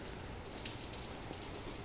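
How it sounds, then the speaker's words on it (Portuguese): Heavy rain falls in Recife as a dense, steady hiss of drops on surfaces, loud and even throughout with no voices. "pois é muita chuva mesmo aqui em Recife"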